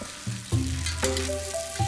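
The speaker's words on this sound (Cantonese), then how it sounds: "熱鑊加香段、蔥段、辣椒爆香" Aromatics and chili sizzle in a hot wok, a close, steady frying hiss with a few sharp bursts as ingredients hit the oil or get stirred.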